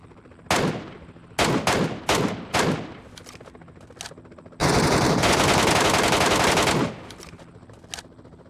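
Gunfire in the video game Metro Royale: several sharp close single shots in quick succession, then a loud sustained burst of rapid automatic fire lasting about two seconds, a final faint shot after it.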